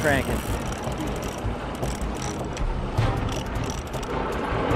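Fishing reel cranked in quick ratcheting clicks over a boat's background noise, close by, with voices and wind mixed in.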